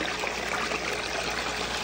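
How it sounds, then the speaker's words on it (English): A water pump spits water out of its top, giving a steady, close splashing and trickling hiss with no voices over it. "Notice the water pump has water spitting out the top."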